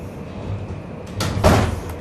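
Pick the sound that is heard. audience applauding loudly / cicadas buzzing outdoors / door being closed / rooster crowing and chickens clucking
door being closed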